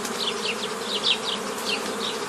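Honey bees hum steadily at a hive that has been split into four nucleus colonies, with individual bees buzzing close by now and then.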